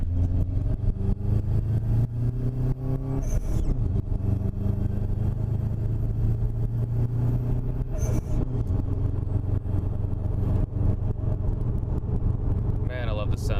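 Car engines at a Subaru WRX outing drone and rev steadily nearby, a continuous mid-pitched motor hum with occasional rising pitch changes running the whole time.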